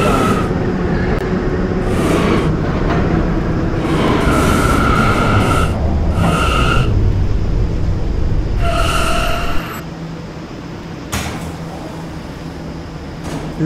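A Roblox PTA Subway R179 train runs with a steady, loud rolling rumble and rail noise. Brief tonal chimes rise over it, then the sound drops to a quieter hum near the end.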